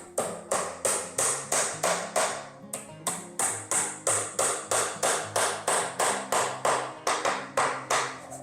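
Sharp hammer taps drive glued wooden dowels into wood in a quick, even rhythm, about two per second, with a brief pause partway through; close and fairly loud, no talking.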